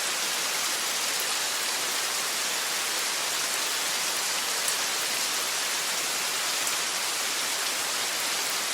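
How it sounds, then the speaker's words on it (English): Heavy rain downpour falling steadily on a city street at night, a dense, even hiss of drops with no breaks or voices, moderately loud throughout. "The rain came down in sheets."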